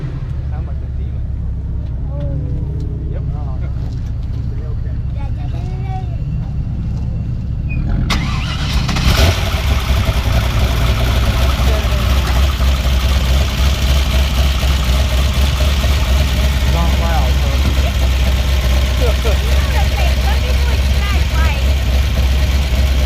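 A 1500hp drag-racing Camaro, built 4L80 transmission and 9-inch rear end, fires up around eight seconds in and settles into a loud, rumbling, lopey idle that holds steady to the end. Quiet talk comes before the start.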